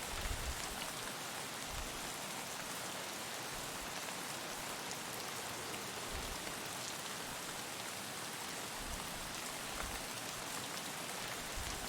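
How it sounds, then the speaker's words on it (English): Steady rainfall in the video game Escape from Tarkov hissing continuously, an even wash of drops with no voices, moderately quiet throughout. "I hear rain again, so we have concealment."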